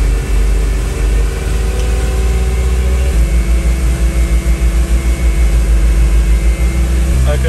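A Teagle Telehawk straw chopper mounted on a telehandler runs steadily with a low droning engine hum, then settles into a pulsing, throbbing rhythm after a few seconds as the revs shift; a voice talks briefly over it.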